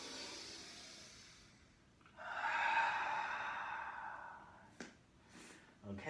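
Open-mouth exhale during a yoga warm-up: a long, breathy rush of air swells and fades, then is followed by short sniffs and a snort-like breath, fairly close and quiet.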